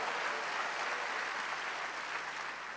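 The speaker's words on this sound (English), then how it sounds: "Somebody give the Lord a big clap" A church congregation claps for the Lord during a sermon, a dense, even wash of applause from many hands that holds steady for a few seconds without a break.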